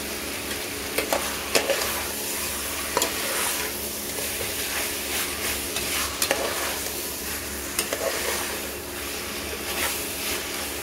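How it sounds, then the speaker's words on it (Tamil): Masala for country chicken biryani frying in a pan as it is stirred, a constant close sizzle with scraping and clinking strokes recurring every second or so. "நல்லா கிளறி விட்டுக்கோங்க கொஞ்சம் நல்லா வதங்கிட்டோம்"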